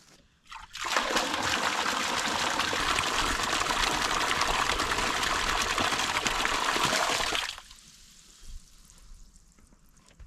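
Water poured out in a steady, loud rushing stream for calves on a dry ranch with no well, running for about seven seconds before stopping abruptly, followed by quiet outdoor ambience.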